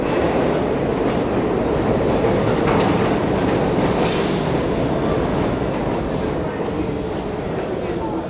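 An NYC subway train, the N or the Q, rolls into the Times Square–42nd Street station with a loud, continuous rumble and rattle of wheels on track that holds steady throughout.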